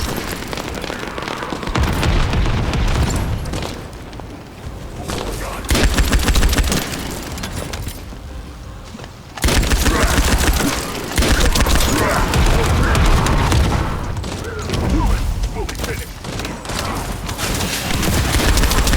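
Gunfire from the co-op shooter The First Descendant, fought in a tunnel, with dense bursts of automatic fire and heavy booms that roll on almost continuously under busy game music and effects.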